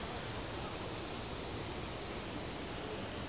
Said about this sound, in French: Et voici la belle cascade de Sefrou.